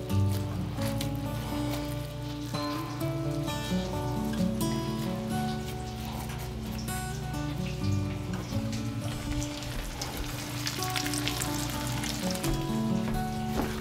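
Crab cakes fry in a pan with a continuous, rain-like crackling sizzle that runs steadily beneath background music, with no one speaking.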